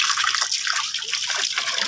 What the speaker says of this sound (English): We have a tubod. It's a flowing water.